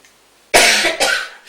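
Two close, loud coughs in quick succession, harsh and breathy, with quiet before them.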